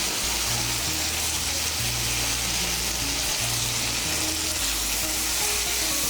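Spiced tomato mixture with chili powder and chopped tomato cooking in a pan, a steady close sizzle and crackle of frying with faint stirring, continuous and fairly loud with no talking.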